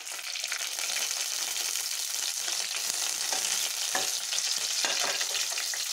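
Green chillies and a bay leaf frying in hot oil in a pan for mushroom gravy, a continuous moderate sizzle with soft stirring scrapes and small pops, no voices.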